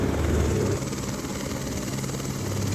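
A helicopter at the Kedarnath helipad, the mountain pilgrimage landing site, gives a steady, loud rotor roar with a low chopping pulse, continuous and fairly near throughout, with no talk.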